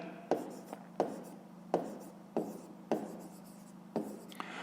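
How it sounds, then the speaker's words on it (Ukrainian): A pen writes on paper, scratching in six short strokes at a steady pace, each starting with a small tap, close and quiet. "Так і пишемо."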